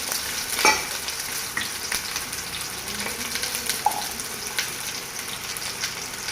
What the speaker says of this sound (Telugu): 1 స్పూన్ అట్లా నెయ్యి వేసుకొని గుడ్లు ఉన్నాయి కదా వేసేద్దాం